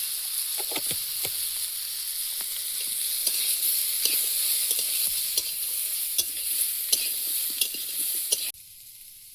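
Chicken fries and sizzles in a pan with cumin powder, coriander powder and water added, a constant close hiss broken by repeated scraping stirs of a spatula, ending abruptly.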